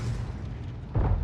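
A tank shell explodes in a military video game, a deep booming blast rolling over a low rumble, followed by a second heavier thud near the end.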